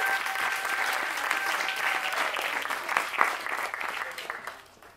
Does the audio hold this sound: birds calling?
no